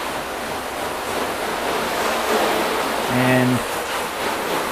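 Steady hiss of water spraying over a car for a rinse, a constant broad wash of noise with a brief tonal hum near the end and a short spoken word.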